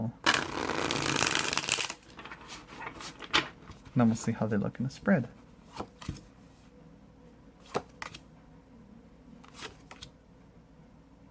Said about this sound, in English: Beautiful, beautiful shuffle. Let me do one more.